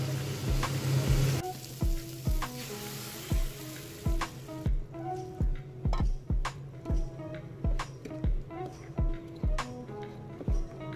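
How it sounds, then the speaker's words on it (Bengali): Flat beans (shim) frying in a pan with turmeric, a soft sizzle under repeated sharp clacks of a spatula stirring against the pan in a steady rhythm, close and fairly quiet. "শিমটা একটু ভাজা ভাজা হয়ে গেলে সেদ্ধ করে রাখা ডালটা দিয়ে দেব।"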